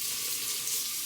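Tap water running to wet an offset spatula, a brief soft steady hiss of flowing water, faint and close.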